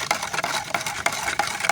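Silica carbon soil amendment, four tablespoons, worked by hand into a planting mix with rice husk charcoal for chili growing: close, steady gritty crunching and rustling of granules with repeated rubbing strokes, no voices.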